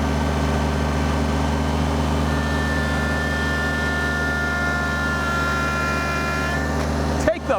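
A Kubota BX23s compact tractor engine runs as a steady, loud drone with a rising whine held near high revs, ending in a brief clunk at the close.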